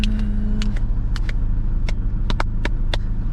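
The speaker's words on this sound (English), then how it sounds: "So much traffic." Road traffic heard from inside a moving car, a continuous loud low rumble of tyres and engine with repeated short clicks and ticks over it.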